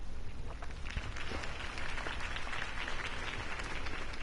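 A crowd applauds after a campaign speech at a city election event, a steady soft wash of clapping heard from some distance and continuing without a break, with no talk over it.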